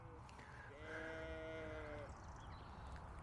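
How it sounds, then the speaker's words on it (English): Spring lambs bleat in one long, wavering call in the middle, over steady outdoor background noise, heard fairly close and fading into quiet murmur afterward. "Spring lambs, look."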